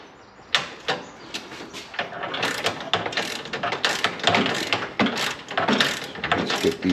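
Bolts being tightened on a Mopar radiator shroud: close, repeated ratcheting clicks in quick bursts, fairly loud with a few sharper knocks.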